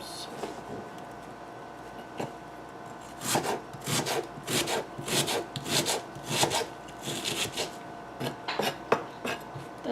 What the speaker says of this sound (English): Okay, so one onion. We'll chop that up a little finely.